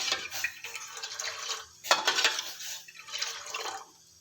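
Milk poured into a pot while making kadak chai, gurgling and splashing in three close bursts with a fluid trickle, no voices.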